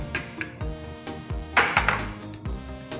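Taro being mixed with flour in a bowl, heard as a series of sharp clinks and knocks of utensil against the bowl in an uneven rhythm, close up and fairly loud, with no voices.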